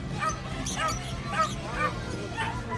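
Near a Pomeranian at a busy pet market, faint yips and short barks rise over a constant wash of crowd chatter and nearby voices.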